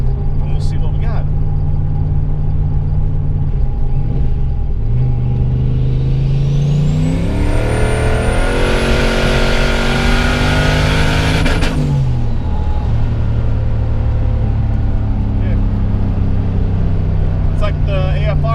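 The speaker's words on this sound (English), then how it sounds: "I hit the rev limiter" A turbo Fox-body Mustang engine pulling hard in third gear, a loud close roar climbing steadily for several seconds up to the rev limiter, then dropping off abruptly into a rumbling cruise.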